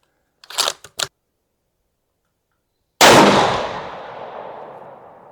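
A single loud rifle shot from a Ruger Gen 2 chambered in 7 PRC, a sharp crack with a long decaying echo, preceded by a few faint mechanical clicks.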